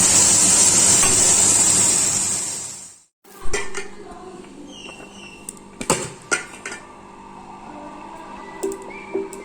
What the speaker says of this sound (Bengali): নুন হলুদ দিয়ে উচ্ছে আর আলু ফ্রাই করে নিচ্ছি।